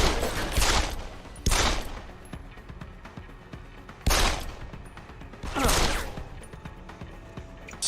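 Gunfire in Deus Ex: Human Revolution comes as four separate loud bursts spaced a couple of seconds apart, with faint mechanical rattles between them.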